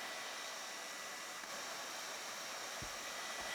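A hair dryer runs on high heat while styling a wig, producing a steady, even airy roar throughout with a couple of soft low bumps near the end.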